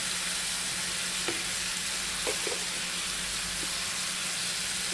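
Okra and tomatoes sizzle in oil with a steady, even hiss, close and moderately loud, with a few faint clicks of a spoon or pan along the way.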